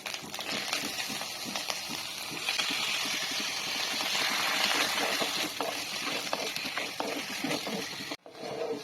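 Chicken pieces sizzle and fry in a spice masala in a pan, a steady, fairly soft crackling hiss with occasional stirring, then a brief drop near the end.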